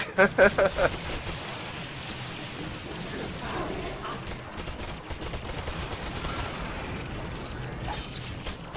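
Gunfire in a Warframe boss fight against Alad V: a quick burst of loud shots at the start gives way to a dense, continuous wash of game combat noise and effects.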